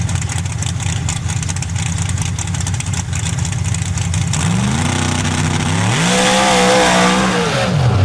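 Modified race car engines roar on a dirt track at a championship finals in Indiana, a loud sustained drone that swells as one car revs up and passes close, alone without talk.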